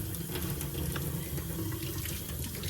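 Running water from a tap splashes steadily over an animal hide as old salt is rinsed off, a continuous close hiss and patter with no talking.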